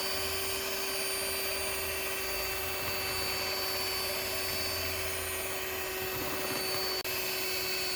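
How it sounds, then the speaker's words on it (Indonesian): An electric mixer beats pandan and black sticky rice cake batter with a steady, continuous motor whine and hum. The sound stays close and even throughout, with no talking. "kita naikkan secara bertahap dari kecepatan yang paling rendah hingga kecepatan yang paling tinggi. Ini kita mixer selama kurang lebih sekitar 7 menit."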